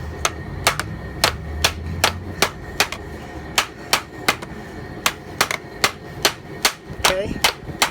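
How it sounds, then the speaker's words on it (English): Lead is tapped flat into a ferrule during a plumbing lead wipe, producing a steady series of about twenty sharp, evenly spaced metallic taps close up over a low background hum. "You wanna flatten your lead down in here so that you're bringing the burrs of the lead down"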